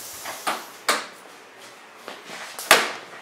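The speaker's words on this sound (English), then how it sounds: "that's these other gear doors shutting, is what you're hearing there" Aircraft landing gear doors shutting as the gear is raised, heard as several separate sharp clunks and thumps spaced irregularly, the last one loudest, close by with quiet gaps between.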